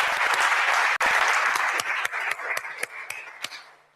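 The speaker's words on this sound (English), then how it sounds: "So thanks so much for round of applause" Audience applause closing an academic talk on solar radiation management and the hydrological cycle, dense clapping from a seated room that thins into scattered, separate claps as it fades out over four seconds.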